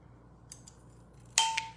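Scissors cut a paper desk flag up close, a few faint snips followed by one sharp, louder cutting crunch, with no voices.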